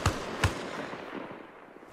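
Explosion in the video game Arma Reforger: two sharp booming blasts close together near the start, the second slightly louder, followed by a low rumbling decay with no talking.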